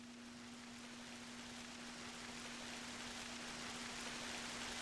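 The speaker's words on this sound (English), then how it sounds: "Raining noises and nothing to press" Steady rain falls continuously in Final Fantasy Tactics: The Ivalice Chronicles, a dense even hiss with a faint constant hum beneath, and no voices.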